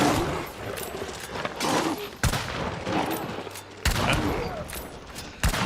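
Gunfire in the video game Hunt Showdown, a few loud sharp shots and bursts spaced through the clip over a busy game soundscape, with no speech.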